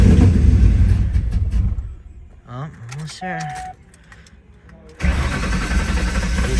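A vehicle engine in a cold garage runs loudly, drops away while someone speaks briefly, then roars back up to a steady, close idle for the final seconds.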